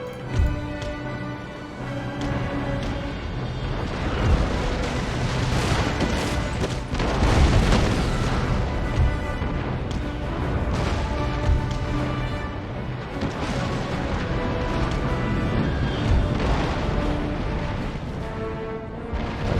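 Naval cannon fire in an Empire: Total War sea battle rolls on as a dense, continuous barrage of booming shots and crashes, loud and layered throughout with no pause.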